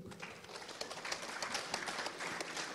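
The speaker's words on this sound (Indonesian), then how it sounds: "Tepuk tangan buat Mas Agung." Applause from a seated audience at an Indonesian art discussion forum, a short spell of quiet, scattered clapping heard from some distance.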